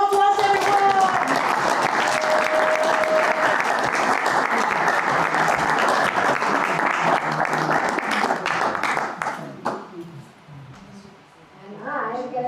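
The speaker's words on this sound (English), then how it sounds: "Round of applause" Warm audience applause at a house concert, steady clapping from a small crowd for about nine seconds before fading into scattered claps and quiet talk.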